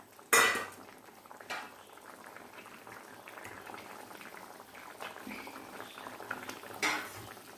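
Egg curry simmers in a pan with a soft, steady bubbling, broken by a sharp utensil clank at the start and another near the end, with a few quiet stirring sounds between.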